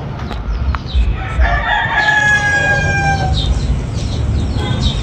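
Rooster crowing at a chicken market in Tabunok, Talisay, Cebu, a long, clear crow rising over a steady bustle of market noise, with another bird calling faintly nearby.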